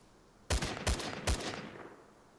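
Three sharp gunshots ring out in the Stalker video game, evenly spaced about half a second apart, loud and close, each leaving a short echoing tail before the sound settles.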